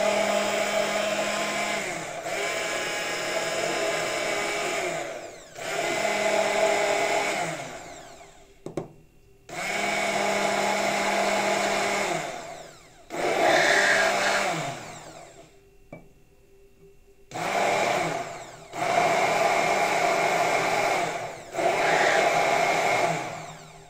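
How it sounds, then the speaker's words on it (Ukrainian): An electric whisk or blender whips aquafaba mayonnaise as sunflower oil is added, running in loud, steady bursts of whirring motor noise separated by short pauses, with no talking. "І збивати треба, при цьому продовжуйте збивати до однорідної маси."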